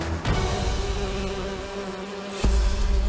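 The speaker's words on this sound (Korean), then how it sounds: "수백 마리의 꿀벌들이 군집을 지키기 위해 우글거리며 모여들어" Hundreds of Japanese honeybees swarm together to defend their hive against an invading Japanese giant hornet, giving a dense, continuous buzzing drone that grows louder near the end, with no talking.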